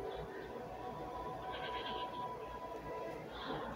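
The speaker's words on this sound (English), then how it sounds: "Hey, you want to hug Goat?" A goat in the video game Assassin's Creed Odyssey gives a couple of short nasal bleats over steady in-game outdoor ambience, moderately loud and fairly close.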